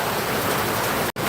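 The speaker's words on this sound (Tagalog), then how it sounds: "Biglang bumuso ulan." Heavy rain suddenly pouring down, a dense, steady close hiss of downpour filling the whole clip, briefly cutting out for a moment near the end.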